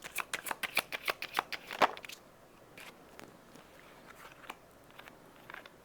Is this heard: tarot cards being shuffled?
yes